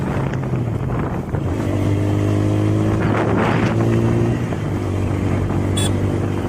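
A mini moto bike ridden along a road gives a close, steady engine drone with a shifting pitch, while wind buffets the microphone throughout.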